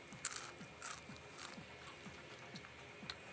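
Homemade Chinese breakfast food, hand-pulled noodles, scallion pancakes and mochi balls, bitten and chewed close up, a series of crisp crunches repeating at a steady rhythm with a few sharper bites near the start.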